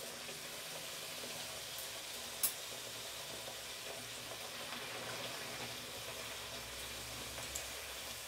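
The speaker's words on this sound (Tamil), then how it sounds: "ரெண்டு பக்கமும் நல்லா பொன்னிறம் ஆகிற வரைக்கும் இதை ஃப்ரை பண்ணிக்கோங்க." Sweet pooris fry in hot oil with a steady, soft sizzle and bubbling that runs throughout, fairly quiet and even, with one brief clink partway through.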